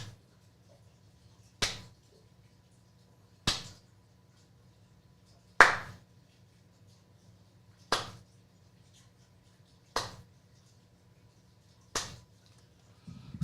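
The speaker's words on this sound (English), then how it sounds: "Slow clap" Seven single, sharp hand claps land at slow, evenly spaced intervals about two seconds apart, each one crisp and isolated against a faint low background hum.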